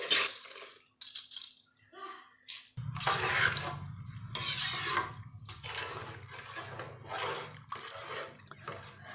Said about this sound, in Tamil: இப்போ இந்த ரைஸை வந்து நம்ம ஆட் பண்ணிட்டு நல்லா மிக்ஸ் பண்ணிக்கலாம்